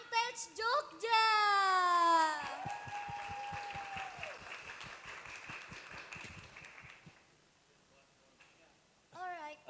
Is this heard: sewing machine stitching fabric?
no